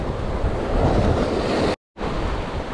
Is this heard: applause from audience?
no